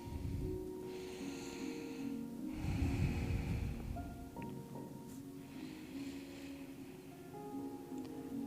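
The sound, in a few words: breathing during yoga forward fold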